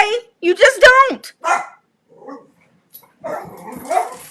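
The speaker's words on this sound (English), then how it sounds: "Sorry about the dogs, guys." Dogs bark and yip in short loud bursts indoors, with whimpering between, mixed in with a person talking nearby.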